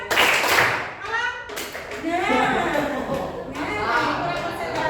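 Children clapping during a classroom clapping game, scattered bursts of hand claps mixed with lively kids' voices and chatter, close and busy throughout.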